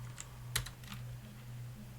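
Soft keystrokes on a computer keyboard while coding in PyCharm, a few scattered clicks and taps over a low steady hum, quiet and with no talk.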